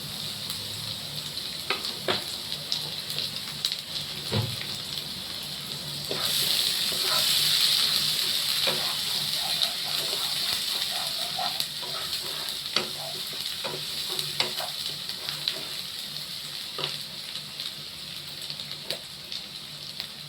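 White cooking oil sizzles while food fries in a pan, a continuous crackling hiss with occasional scraping stirs and a louder surge of sizzling partway through.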